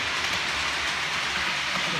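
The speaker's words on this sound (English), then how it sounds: "The train's in." A train arriving on the line at Long Dyke Junction makes a steady rumbling, hissing roar with a low rolling undertone, close and continuous.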